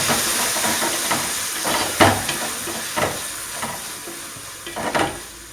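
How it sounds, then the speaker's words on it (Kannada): Tomatoes fry in oil with a continuous hiss and sizzle, and a spatula scrapes and stirs the pan several times, with the loudest scrapes coming near the middle and again at the end. "ಟೊಮೆಟೊ ಫ್ರೈ ಆಗೋದು"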